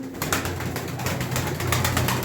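Pigeons coo in low, throaty rolls, several birds overlapping close by in a steady murmuring chorus.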